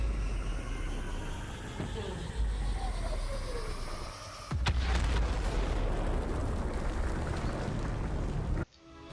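A large explosion in the Call of Duty Black Ops 4 Zombies bunker sequence: a loud, sudden broadband blast midway, followed by a sustained heavy rumble over ongoing game ambience, then an abrupt cut.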